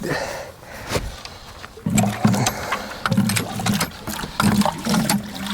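A hand pump draws water from a homestead well, with repeated squeaky strokes and gushing splashes of water in an even rhythm, heard close and outdoors.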